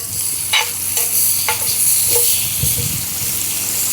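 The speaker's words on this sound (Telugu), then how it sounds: "మన ఆయిల్ అయితే వేడైపోయింది ఇంకా మనం సన్నగా కోసుకున్న ఉల్లిపాయలను వేసుకుందాం" Thinly sliced onions dropped into hot oil for a village-style chicken fry sizzle loudly and steadily, with close spatula clicks and scrapes every half second or so.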